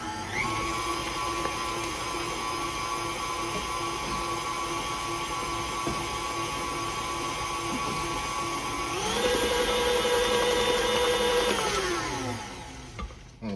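An electric mixer whirs steadily through pound cake batter flavored with lemon and creme bouquet, a high, even motor drone that shifts pitch near the end before winding down.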